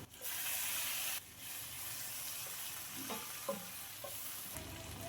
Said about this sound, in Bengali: এখন আমি দিয়ে দিচ্ছি টমেটো।